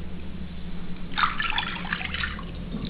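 Water poured into a large glass bowl, three cups' worth for a rasmalai syrup, trickles and splashes in a steady stream for about a second and a half over quiet room hum.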